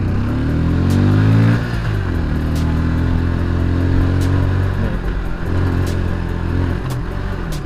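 A motorcycle engine labors in first gear up a steep hill, a loud, close, droning growl that surges briefly early on, then holds a strained, uneven note with small throttle dips.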